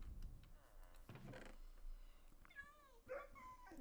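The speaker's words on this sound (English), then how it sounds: "I hate the new dog sound in Minecraft." Minecraft dog sounds from the video game: a few short barks and whimpering yips in the middle and end, fairly faint, with a brief thud near the start.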